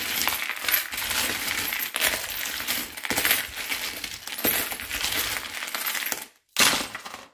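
Divination charms dropped and tumbling onto a surface for a reading, a busy metallic clinking and jingling that runs for several seconds, fairly quiet and close, then a brief silence and one more clatter.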